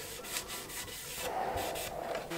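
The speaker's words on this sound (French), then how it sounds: "Sur ma ponceuse calibreuse" Wide belt sander (thickness sander) working a wooden panel, a steady abrasive rubbing hiss with repeated brief surges as the board passes under the belt, close and continuous.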